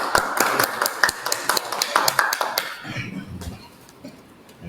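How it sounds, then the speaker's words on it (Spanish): Small group clapping for presenters at a school education session, a few sharp, separate claps over the first half that quickly die away into quiet room noise. "un aplauso para ustedes"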